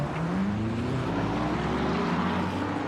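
Race cars, including a McLaren and an Aston Martin, roar through the braking zone at Interlagos during an endurance series race, a loud steady engine drone with a slowly rising whine throughout.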